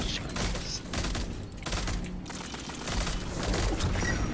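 Dense, continuous gunfire from a Destiny 2 Iron Banner match, loud and sustained with overlapping shots and mechanical clatter filling the whole stretch.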